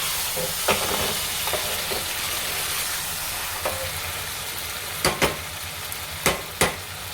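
A spoon stirs tomato brinjal curry in a pan over soft, steady sizzling, with a few sharp scrapes and knocks against the pan late on; no talk.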